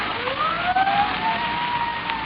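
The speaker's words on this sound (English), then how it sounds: "Sirens. Can't you hear them?" Police sirens wail as they approach in an old time radio drama, a rising and falling tone with a faint, band-limited broadcast quality, heard alone without talk.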